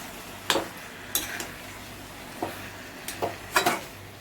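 Chicken being stirred and sautéed in a pan: a handful of sparse spatula clinks and scrapes against the pan, fairly close, with a quiet background between strokes.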